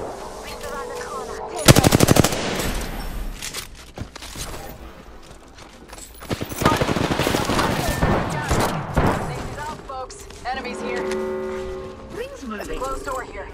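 Gunfire in the video game Apex Legends: a loud burst of rapid automatic fire, then more shooting and mechanical clatter, with game voice lines and radio chatter mixed in.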